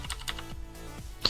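Typing on a computer keyboard during 8-bit NES assembly and Golang programming produces a few distinct, close key clacks at an irregular pace, with no voices over them.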